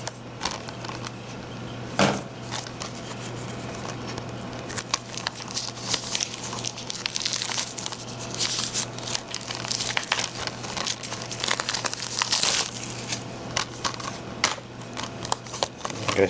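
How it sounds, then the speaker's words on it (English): Scissors cut into stiff plastic anime DVD packaging up close, making intermittent crinkling, crackling snips and rustles of wrapper, with occasional sharper cuts spread over a quiet background. "Fortunately, we've got scissors."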